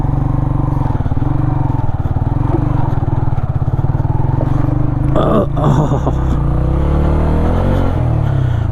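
A new CNG motorcycle ridden off-road, its engine droning steadily up close with rattling clatter from the rough ground, while a rider's voice talks over it throughout.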